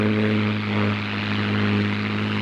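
A WWII-era propeller fighter roars at full power on its takeoff run, a loud, steady, droning engine with a strong constant pitch filling the whole stretch, no talking.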